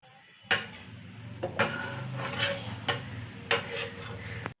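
Cooked vegetable filling for veg puri is tipped onto a metal plate, with a few distinct clanks and knocks of spoon on pan and plate at irregular intervals, quiet and near, without speech.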